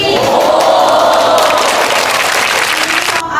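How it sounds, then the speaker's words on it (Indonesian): Classroom applause for a student named Desi, a dense burst of clapping from many hands that carries on steadily for a few seconds before fading slightly at the end. "Beri aplaus untuk Desi"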